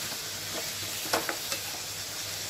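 Sliced tomatoes and onions stirred in a pan for a Rayalaseema-style tomato curry, with a steady low sizzle and a few spoon scrapes and knocks on the pan; close and continuous, with no talking.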